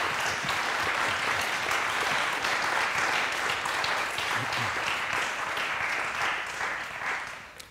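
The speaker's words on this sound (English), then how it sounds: "So I'd like to give a big round of applause for our speakers." Sustained audience applause at a conference paper session, a dense steady wash of many hands clapping that holds for several seconds and tapers off at the end, with no talking over it.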